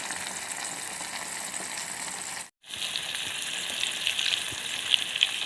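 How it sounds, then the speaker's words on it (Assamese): Eggplant slices frying in hot oil in a pan, a steady close sizzle with a brief dropout midway, then continued sizzling with small pops. "এতিয়া মই বেঙেনা ফ্ৰাই কৰি আছোঁ।"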